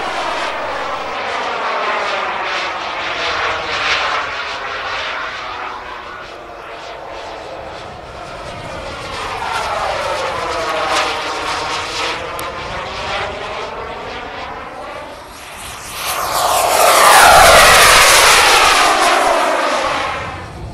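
A scale model airplane's engine drones loudly during an IMAA Europe air show at La Ferté-Alais, rising and falling in pitch as the slow model passes repeatedly, swelling to its loudest near the end.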